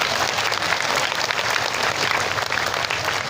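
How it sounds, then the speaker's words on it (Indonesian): An evening audience at a mosque inauguration in Tulungagung, during a religious sermon, breaks into steady applause. It is dense and sustained from start to finish with no voices on top. "Tepuk tangan untuk kita semuanya"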